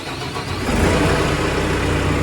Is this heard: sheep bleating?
no